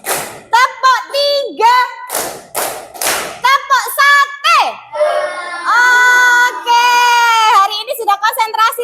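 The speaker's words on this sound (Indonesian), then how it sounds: "Tepuk konsentrasi" Children in a primary classroom play a rhythmic concentration clapping game, sharp hand claps in quick patterns mixed with loud chanting voices of the group.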